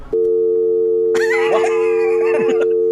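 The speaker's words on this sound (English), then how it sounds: "I think that's when it gets disconnected." A steady telephone dial tone hums continuously, while a faint voice or other sounds briefly overlap it partway through.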